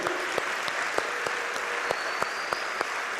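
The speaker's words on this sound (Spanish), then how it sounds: "Y le digo, Enzo, gloria a Dios, denle un aplauso fuerte al Señor." Steady applause from a church congregation, a continuous wash of clapping with a few sharper claps standing out, fairly close and even throughout.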